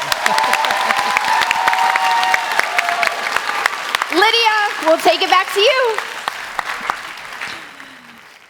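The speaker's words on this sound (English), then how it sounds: "let's give a final round of applause for our amazing guests" Broad audience applause fills the first part, then a voice speaks over the fading clapping before it dies away.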